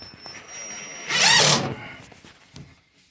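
A power drill drives screws into a kitchen cabinet during drawer and slide installation, one short whirring burst of about half a second amid quiet room sounds.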